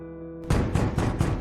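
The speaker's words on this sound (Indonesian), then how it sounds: "Terdengar suara ketukan pintu kamar" Knocking on a bedroom door, four firm, evenly spaced raps close by, following a steady background hum.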